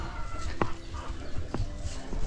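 Chickens on a farm with a rooster crowing, close and fairly loud, with short repeated clucks and calls over a noisy outdoor background, no speech.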